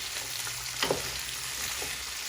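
Garlic green beans sizzle steadily in a hot pan as they are stirred, a constant frying hiss with a couple of brief scraping strokes, close and moderately loud with no talking.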